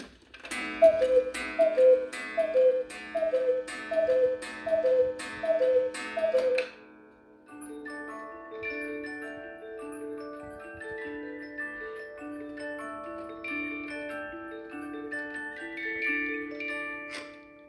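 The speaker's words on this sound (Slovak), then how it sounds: "Hodiny majú 8-dňový mechanizmus aj s hudbou a teraz si ukážeme, ako fungujú." A Hones 86210 cuckoo clock with an 8-day movement strikes the hour: a run of two-note cuckoo calls over clacking bellows, then a clear music-box tune plays on alone.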